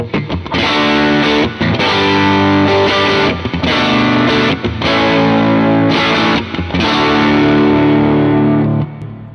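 A loud electric guitar through an Ibanez TS808 overdrive pedal, tone knob at maximum, plays sustained chords with brief gaps, bright and edgy with thick gritty overdrive throughout.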